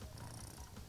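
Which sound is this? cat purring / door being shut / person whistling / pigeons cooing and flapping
cat purring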